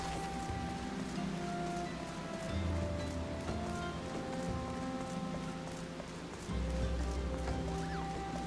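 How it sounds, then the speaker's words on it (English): Steady rain falling on a surface, a dense even patter of drops at moderate level with a low background rumble, no voices. "Rain? Yeah."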